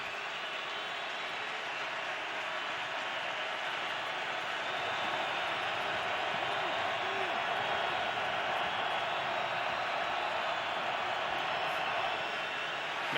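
Steady, roaring crowd noise fills a football stadium during a Browns at Bills NFL game in 2014, a constant loud wash of many voices building slightly midway, with commentary over it.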